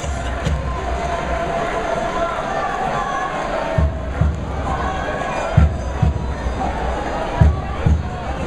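An outdoor street crowd at a rugby school parade in Narbonne sends up steady cheering and crowd noise, with scattered low thumps under the voices.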